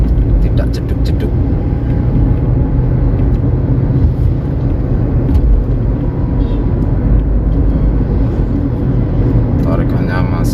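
A 2008 Honda CR-V third generation with a 2.0 engine and automatic gearbox driving along, steady loud cabin rumble and road noise throughout, with no jolting shifts.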